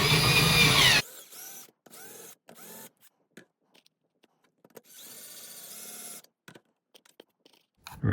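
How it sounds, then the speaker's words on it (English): Power drill with a metal bit boring a hole for a BMW i8 front plate bracket: one loud burst of whirring, then short stop-start trigger pulses and brief runs with pauses between. "So I'm gonna use a regular drill bit,"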